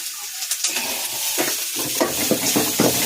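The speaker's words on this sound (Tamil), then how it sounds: "தக்காளி, மாங்காய், நல்லா போட்டு வணக்கிங்க." Tomato and green mango sauté in a hot pan for a sardine curry, giving a steady sizzle broken by several quick stirring scrapes.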